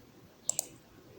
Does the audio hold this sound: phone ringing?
no